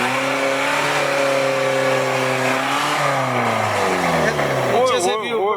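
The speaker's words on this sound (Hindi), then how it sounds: "एक और गाड़ी भाई साहब ने रुकी है" Car stopping on a street in Lahore with its engine running, a loud continuous engine drone with shifting pitch, busy traffic noise around it and a voice over the top.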